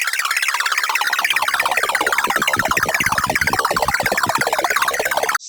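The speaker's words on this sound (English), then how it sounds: "the blip loop here comes from the 3x oscillator with the notes playing a very low decay time" Randomized arpeggiated synth blips from a 3x oscillator with very short decay, a dense, rapid, bubbly stream of notes looping steadily and loudly with no voice, cutting off at the end.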